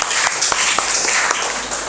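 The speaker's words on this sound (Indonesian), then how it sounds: "oke, tepuk tangan buat kalian." Classroom students clap briefly, a close burst of quick, uneven hand claps that lasts under two seconds.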